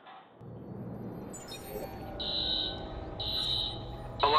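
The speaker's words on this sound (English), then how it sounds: "Alarm's been tripped." In the Watch Dogs video game, an electronic alarm beeps in repeated long shrill tones over a low rumbling game ambience, with a short burst of noise at the end.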